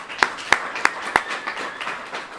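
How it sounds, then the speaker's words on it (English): Clapping from an audience at the opening of an affordable assisted living facility, a few sharp separate claps followed by lighter scattered applause. "applause for Mayor"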